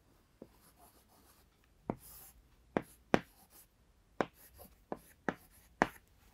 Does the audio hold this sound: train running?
no